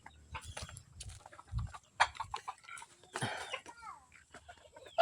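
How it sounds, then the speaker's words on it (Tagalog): Mestizo junglefowl and bantam hens clucking and calling close by in a busy farmyard, with overlapping bird chatter, a few louder squawks, and some low thumps mixed in. "Mistiso na laboyo at saka puro na bantam na ba inahin."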